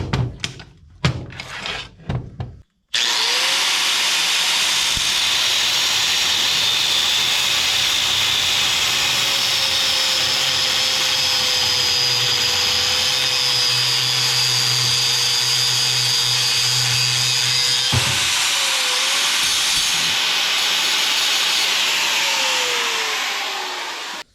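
A damaged hitch lever on a John Deere 3038E tractor's three-point hitch is cut off with a power tool, following a few seconds of clanking handling. A loud, steady, whining cut then runs continuously, close by, with no talking.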